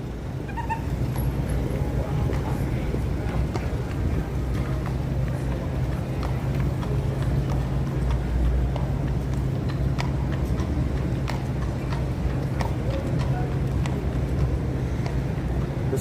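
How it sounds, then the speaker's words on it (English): Police horses walk along a New York City street near Fifth Avenue at night, their hooves clip-clopping lightly amid constant traffic and city hum, with a few voices in the crowd. "we don't see horses patrolling the streets too often"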